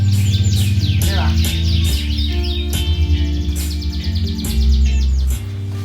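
Canaries chirp and trill continuously in breeding cages at a small home aviary, bright rapid song running throughout over a steady low background hum.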